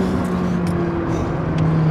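A McLaren 600LT with a Stage 1 tune at about 660 hp accelerates hard, its engine a loud, steady roar heard up close from inside the car for the whole short stretch, with no talk over it.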